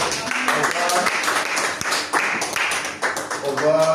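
A church congregation claps in quick rhythmic bursts, the applause mixed with voices speaking and cheering, loud and close throughout.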